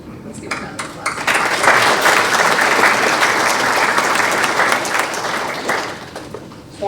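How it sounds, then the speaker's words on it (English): Audience applause at a community foundation spring grant celebration, starting with scattered claps that quickly build into full, steady clapping from a room of people, then thinning toward the end. "Let's give him a round of applause."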